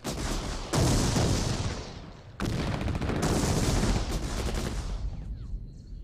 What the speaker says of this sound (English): they began to hear firing up ahead of them